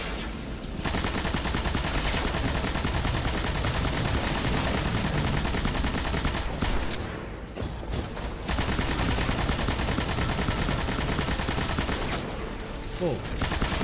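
Continuous heavy gunfire in the video game Destiny 2, a dense barrage of rapid shots that runs almost without pause, with brief gaps, while a voice speaks over it.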